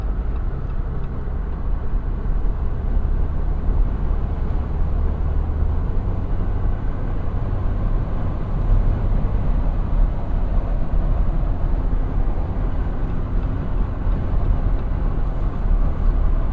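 A 2024 Jeep Wrangler Rubicon X two-door cruising on an expressway, with a steady, loud broadband roar of road, wind and engine noise that stays even and continuous throughout, with no talking.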